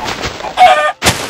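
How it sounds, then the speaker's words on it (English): A Minecraft chicken clucks in a few short bursts close by, the calls separated by brief gaps. "Hi, chicken."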